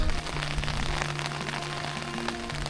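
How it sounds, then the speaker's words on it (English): Hail or snow falls on a tent during a mountain traverse, making a dense, continuous patter of small impacts on the fabric that sounds close and steady, much like rain. "Oh, is this hail? This is hail or snow. You can see it on the top of the tent."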